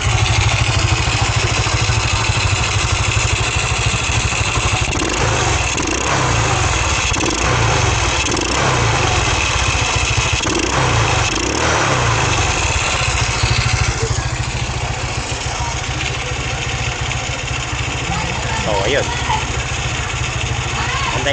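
A Rusi motorcycle engine, after a carburetor setup, idles steadily for the whole stretch, a low, continuous rumble with faint background voices now and then.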